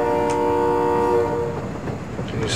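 A train in a video game rolls past with a sustained horn-like tone over rumbling, clattering wheels, loud and near, then the tone fades into rattling carriage noise.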